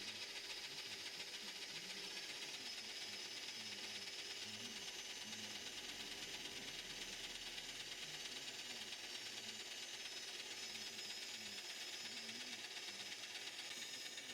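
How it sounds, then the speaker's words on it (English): A Scheppach DP50/DP60 digital bench drill press running at around 500 RPM while drilling to 10 mm depth, giving a steady, even mechanical whir and hiss with faint low rhythmic churning, unbroken and without speech. "Starting the machine, I intend to drill to 10mm."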